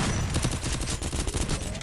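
Dense, continuous rapid gunfire from the game Free Fire crackles loudly, shots overlapping in a sustained burst with no pauses, in a game-like barrage.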